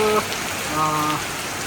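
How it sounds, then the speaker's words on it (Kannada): Heavy rain falls in Dubai as a steady, loud hiss across the whole clip, with brief voices heard faintly in the background. "ಹಂಗು ಎಲ್ಲ ಅಷ್ಟಿಷ್ಟಲ್ಲ ಜಗ್ಗಿದೆ ಮಳೆ"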